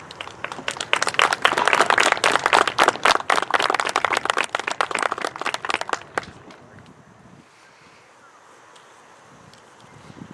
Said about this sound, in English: Thank you very much for that round of applause.